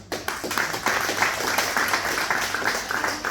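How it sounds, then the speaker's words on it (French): People at an awards evening clap for a moment, producing a dense patter of steady applause that stays moderately loud and even. "on peut l'applaudir aussi"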